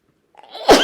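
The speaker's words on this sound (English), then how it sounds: "I'm starting to sneeze now" A single sharp human sneeze, a short breathy intake building into a loud burst close by at the end.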